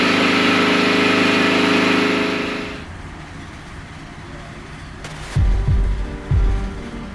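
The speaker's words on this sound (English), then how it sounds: "Come over here to our lovely little air compressor." A small air compressor runs loud and steady in a railway maintenance setting for ATSF 2926, then cuts out and leaves a quieter hum, followed by a couple of clunks.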